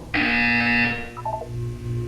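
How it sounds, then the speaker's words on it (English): A buzzer sounds in the video game Portal 2: one harsh, bright electronic tone lasting under a second. A few softer, lower tones follow it, and nobody speaks. "You will hear a buzzer."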